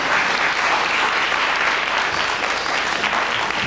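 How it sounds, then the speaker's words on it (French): A television game show studio audience applauds two contestants, a full, loud, continuous wash of clapping from start to finish. "il faut les applaudir vraiment fort tous les deux, comme vous le faites"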